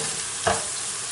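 Paprika and oil stirred in a pan over the lowest heat for a chickpea and butter bean stew: a steady, loud sizzle with one short scrape of a stirring spoon.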